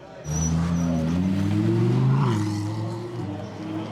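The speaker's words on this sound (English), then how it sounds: "The BMW M6 GT3 is working its way up the field." A BMW M6 GT3 race car at the Nürburgring 24h race roars loudly, its engine note rising steadily under acceleration and then dropping as it shifts, heard close from onboard.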